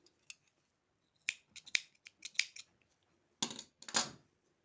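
Scissors snip crochet yarn in a few sharp, close clicks scattered across a quiet moment, with small handling taps between cuts.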